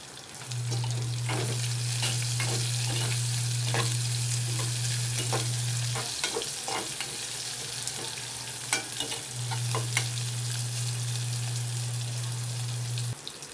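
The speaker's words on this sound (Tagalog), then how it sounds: "At ayan, nagkulay brown na ang bawang. Ilagay ko na ang sibuyas." Garlic browned in a pan fries with a steady, continuous sizzle, joined by chopped onion, with scattered clinks and stirring scrapes; a low hum drops out midway and then returns.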